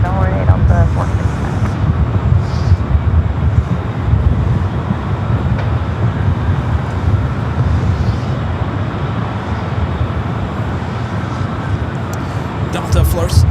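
A Delta Airbus A321neo bound for Honolulu takes off at Los Angeles International Airport, heard as a loud, continuous low jet roar. A voice talks over the engine noise.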